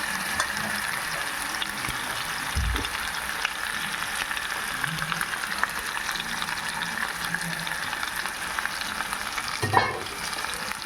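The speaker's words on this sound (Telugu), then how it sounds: "నూనెలో బాగా కలిసేలాగా మనం వేయించుకోవాలి." Soft chicken pieces frying in oil in a pan, a steady broad sizzle and hiss with occasional low thumps and light stirring, close and continuous, no speech.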